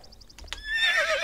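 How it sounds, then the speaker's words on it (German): In the video game Star Stable Online, a Jorvik primeval horse rears and lets out a loud, high whinny, preceded by a few short clicks and thuds. "So sieht das Ganze aus, wenn das Pferd steigt."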